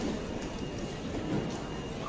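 A steady, low rumbling of an airport terminal train running between gates, with faint background noise and no distinct pauses.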